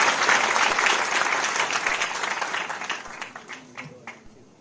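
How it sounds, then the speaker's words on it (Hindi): Loud applause from a political rally crowd welcoming the chief minister of Madhya Pradesh, Shivraj Singh Chouhan, a dense wash of clapping that fades gradually over several seconds, with scattered cheers and a few sharper individual claps near the end. "जोरदार तालियों से स्वागत।"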